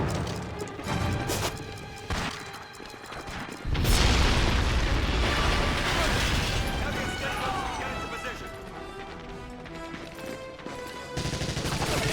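Explosive charge detonating on an anti-air gun in Medal of Honor European Assault, a sudden heavy blast amid scattered gunfire, followed by a long rumbling roar and ongoing shooting while voices shout.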